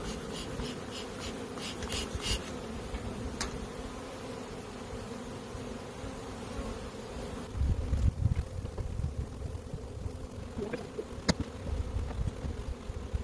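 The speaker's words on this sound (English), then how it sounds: "The bees are just absolutely in a great mood today." Honey bees drone continuously while a hive box is opened and inspected in Michigan, a close, steady buzz with occasional soft knocks and handling noises from the frames and equipment.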